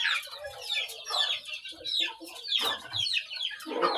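Young chicks at feeding time cheep and chirp in a busy, overlapping commotion, close and lively, with some lower clucking mixed in.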